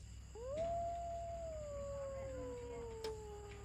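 Captive wolves raised on a ranch, howling with one long clear wavering howl that slowly drops in pitch, a second fainter howl joining it, heard from moderate distance with no talking.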